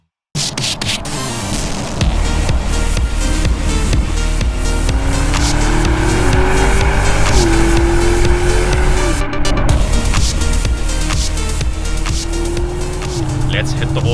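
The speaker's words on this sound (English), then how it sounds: "Let's hit the Autobahn in the Audi SQ7." An Audi SQ7 facelift with a petrol V8 accelerates hard on the Autobahn, its engine note climbing steadily through the gears under loud wind and road roar from inside the cabin.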